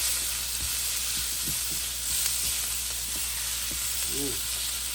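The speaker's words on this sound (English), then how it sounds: "Let those peppers and onions just cook on through." Peppers and onions fry in a pan with a steady, loud, close sizzle, while soft scraping taps from stirring come through and a brief bit of voice appears near the end.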